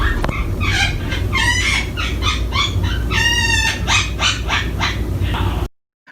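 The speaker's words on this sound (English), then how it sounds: "Let's hear the parrot laugh again" A parrot's loud, repeated laughing calls with harsh, screechy bursts fill nearly six seconds, close to the microphone, before cutting off abruptly.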